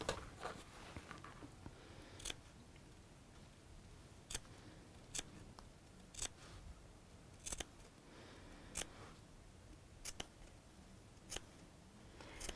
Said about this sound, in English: So just snipping into that seam allowance.